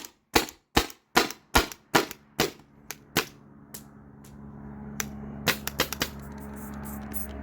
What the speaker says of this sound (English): I'm just shooting the air out of this, whatever's left in here.